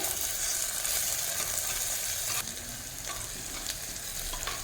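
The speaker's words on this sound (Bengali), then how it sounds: "এর মধ্যে দিয়ে দিতে হবে আগে থেকে থেতে করে রাখা আদা রসুনের পেস্ট এটাকেও ভালো করে নাড়িয়ে ভেজে নিতে হবে" Ginger garlic paste stirred and frying with onions in a pan for a chicken and ash gourd curry, giving a steady close sizzle with scraping stirs that drops slightly in level partway through.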